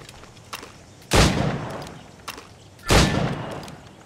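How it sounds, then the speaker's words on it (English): Two loud, separate gunshots at target practice in Assassin's Creed Rogue, each a sharp blast with a short decaying tail, spaced a couple of seconds apart with faint clicks and footsteps between them. "Go on. Shoot these targets."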